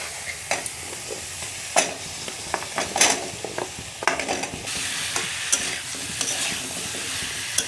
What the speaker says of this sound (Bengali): ওলের সাথে মশলাকে ভালো করে মিশিয়ে দিচ্ছি